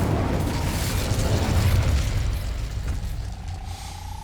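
The Incendio fire spell cast in Hogwarts Legacy: a loud whooshing burst of flame with a booming rush that slowly thins out, followed by a faint rising tone near the end.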